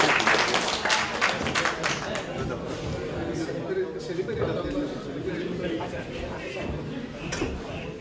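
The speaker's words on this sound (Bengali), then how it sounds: "আমি রেজাউল গরিবের জন্য আপনাদের সবার কাছে একটা করতালি আহ্বান জানাই" Crowd applause at a Bangladeshi alumni association oath-taking ceremony in New York, with dense clapping loud at first then thinning out over several seconds, while voices carry on underneath.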